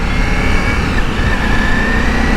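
A Ducati Multistrada V4 Pikes Peak motorcycle with quick shifter and auto blipper, ridden on the road: a loud, continuous engine drone with a slight shift in pitch partway through, and no voices.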